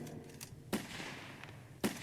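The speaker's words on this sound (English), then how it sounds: "someone's apparently shooting" Gunfire in the Roblox Titanic video game: two sharp, fairly faint shots about a second apart over a low background hum.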